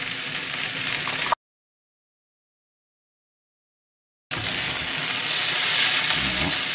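Beef noodles sizzle and hiss steadily while being sautéed and tossed in a pan; loud, continuous frying that cuts out completely for a few seconds, then returns.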